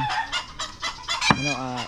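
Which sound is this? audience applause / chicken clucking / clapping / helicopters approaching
chicken clucking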